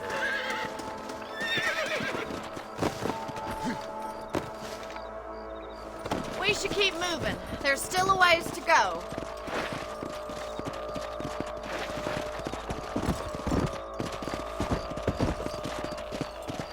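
Horse hooves clip-clop steadily while a horse whinnies and snorts nearby in the video game Red Dead Redemption, with someone speaking briefly over the riding sounds.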